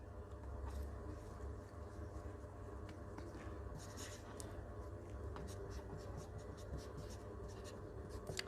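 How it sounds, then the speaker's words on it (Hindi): Pen or marker writing out steps on a board or paper: faint, scattered scratchy strokes in short irregular bursts over a steady low background hum, with no talking. "यहाँ मैं लिख देती हूँ स्टेप्स"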